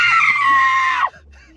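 One loud, shrill scream held for about a second, close by, then cut off abruptly into quiet background.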